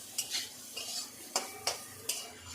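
Ground cumin, chili and coriander powders fry in a pan while a utensil scrapes and knocks against the metal in a steady rhythm of sharp taps over a faint sizzle.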